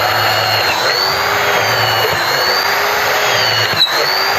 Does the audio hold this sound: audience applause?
no